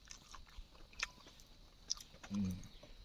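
Fern shoots (phak kut) are eaten outdoors in a dry dipterocarp forest, with a few crisp, close bites followed by a brief burst of soft chewing in a quiet setting.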